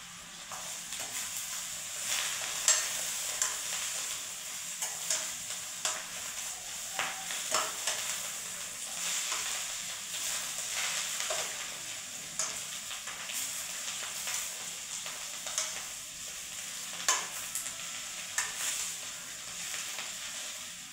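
Tempering is poured onto a rice and kundru vegetable dish, leaving a faint, steady crackling sizzle with soft scattered pops and utensil taps over about twenty seconds.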